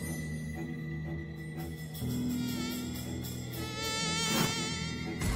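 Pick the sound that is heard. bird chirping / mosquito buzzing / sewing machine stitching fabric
mosquito buzzing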